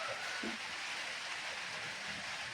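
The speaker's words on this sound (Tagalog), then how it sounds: "Ito yung ulan yan, no?" Steady rain hisses continuously, a soft even wash of falling water with faint scattered sounds underneath.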